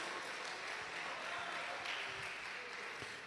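Congregation clapping in a church during a live-streamed service, a dense, steady wash of applause from many hands heard at a distance, low and even throughout with no talk over it.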